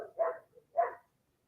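Two short, faint yelping barks from a puppy, evenly spaced and isolated against near silence.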